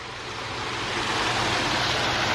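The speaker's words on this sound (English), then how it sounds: "So you can go from Babbling Brook to Niagara Falls in a 60-second time frame." A backyard waterfall driven by an Aquascape pump roars steadily with dense, continuous splashing water, loud and close, swelling slightly toward the end with no voices.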